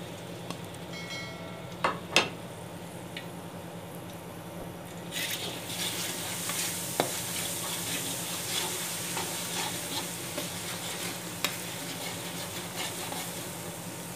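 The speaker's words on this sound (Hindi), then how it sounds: "लहसुन और अदरक को हमने तब तक पकाना है जब तक ये डार्क ब्राउन हो जाए।" Ginger garlic paste frying in about a cup of hot ghee, a steady sizzle and crackle that swells after a few seconds and holds on, with occasional stirring clinks, no voices.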